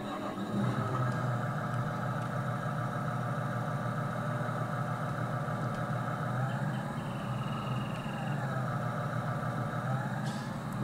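A truck engine in Farming Simulator 19 drones steadily at a low, idling-like rumble, with faint pitch shifts as it drives, continuous and close throughout with no voices.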